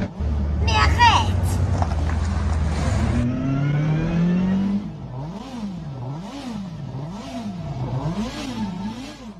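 An Audi RS7 fitted with a new aftermarket exhaust silencer revs loudly and close by. Rising and falling engine tones repeat in waves while people talk over it.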